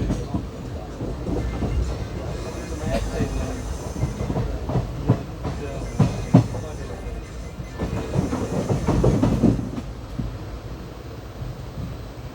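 The Mangaluru–Mumbai Superfast Express rolls into Udupi station with a steady rumble and clatter of wheels over rail joints. Wind noise hits the microphone, the sound swells near the end, and a voice talks over it in places.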